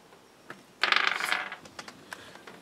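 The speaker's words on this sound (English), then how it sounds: "With a dice roll." Dice clatter and rattle across a table during a tabletop Dungeons & Dragons game, a short burst of hard clicks settling into a few faint taps.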